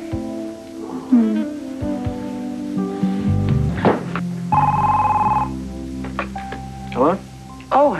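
A telephone rings in repeated tonal bursts amid a soap opera scene, mixed with background music and occasional speech, fairly close and clear between other sounds.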